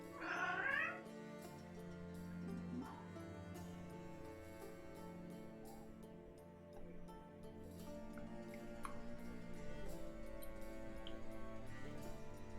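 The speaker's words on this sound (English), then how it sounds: "There are cats in the game." Cats meowing in the video game Crossroads Inn, with one clear drawn-out meow at the start over steady background game music.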